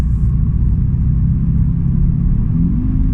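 A 2011 VW Scirocco 2.0 TDI with a six-speed DSG automatic gearbox heard from inside while driving, giving a steady low diesel engine and road rumble.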